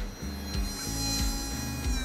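A MOLLAR MG18V 18-volt cordless mini grinder runs with a steady, smooth whine and low hum, with a slight dip in pitch at regular intervals as it works against a surface. No talk is heard.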